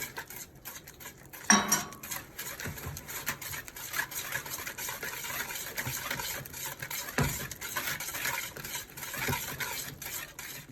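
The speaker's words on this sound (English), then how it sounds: "We are whisking the 8 eggs together with the sugar, maklepi, masticha, and kakule." Steady clinking of a whisk against a bowl as eight eggs are beaten with sugar, maklepi, masticha and cardamom for a Greek vasilopita, a continuous moderate scraping patter with one sharper knock near the start.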